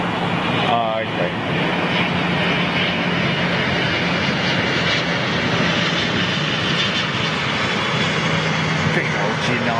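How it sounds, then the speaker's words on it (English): A United Boeing 777-200 jetliner, an older airframe, passes with a loud, steady roar of jet engines holding throughout, while voices talk briefly beneath it. "Big old United 777-200. One of the older ones in the fleet."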